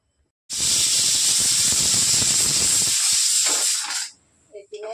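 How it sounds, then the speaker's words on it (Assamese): A pressure cooker boiling cauliflower lets out a loud, close, continuous hiss of steam for about three and a half seconds, then stops abruptly, followed by a few faint knocks. "বইল হ'বলৈ কুকাৰত দি দিলোঁ।"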